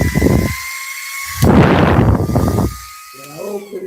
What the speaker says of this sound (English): I got my little waist fan. I got it on very low. It goes very high.